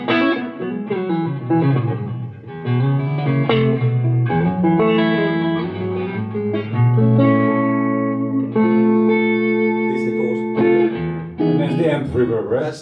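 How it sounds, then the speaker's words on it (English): Electric guitar played clean through a Victory Deputy amp with the amp's own reverb and no pedals, sustained chords and single notes ringing out with a lingering tail over several phrases. "Reverb, right? That's just the amp reverb."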